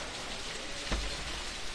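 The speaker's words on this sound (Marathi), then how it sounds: "तुम्ही बघितलं असेल व्हिडिओ आमच्या गावाकडलं वातावरण पावसाचं" Steady rain falls in a village during heavy monsoon weather, a soft continuous hiss with faint raindrops throughout and a brief louder thump near the middle.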